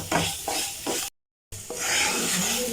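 Taro root (seppankilangu) stir-fried with salt in a pan for a crispy roast: loud close scraping and stirring over a sizzling hiss, cut by a brief moment of total silence.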